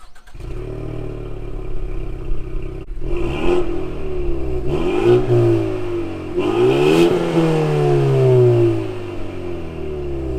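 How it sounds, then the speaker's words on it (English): A four-cylinder 2024 Ford Mustang engine revs repeatedly, heard from outside, rising and falling in several loud pulls with a rough, buzzy tone. "Here's what the car actually sounds like from outside."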